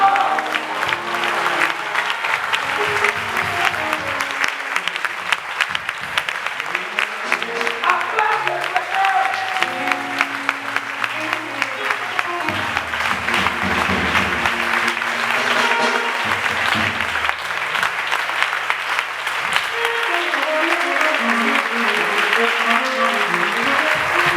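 A church congregation applauds and cheers for blessings of victory during a prayer service, long sustained clapping mixed with shouts and voices, loud and close throughout with music or singing underneath.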